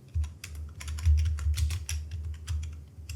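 Fingers type a text prompt on a computer keyboard in quick, uneven bursts of close, crisp key clacks, with brief pauses between runs and no talking.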